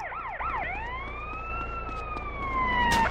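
A loud police car siren in GTA San Andreas yelps in rapid cycles, then settles into a long, steady wail, with traffic rumbling underneath.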